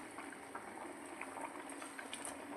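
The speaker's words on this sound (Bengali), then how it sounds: "তো দেখো ডালটা ফুটে গেছে" Spinach dal bubbles in a pot, a faint, steady simmer of small pops and gurgles up close with no talking.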